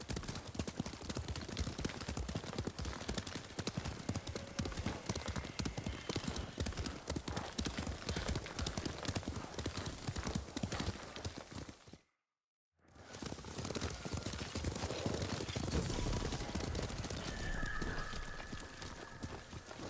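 Horses gallop in a steady clip-clop of hooves through the Ghost of Tsushima video game, loud and continuous, with a brief silent gap partway and a faint whinny-like tone near the end.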